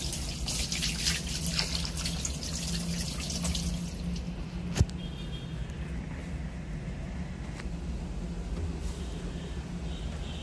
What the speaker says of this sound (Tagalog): Nalalagyan po yung tubig.